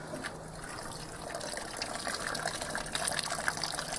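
Liquid from a grain bag drains and trickles into a pot of boiled wort while brewing an IPA, a steady, soft gushing and dripping heard close up and alone.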